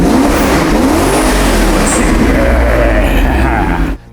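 A car being restored, newly able to start, runs loud and steady with engine revving throughout, then cuts off abruptly at the end.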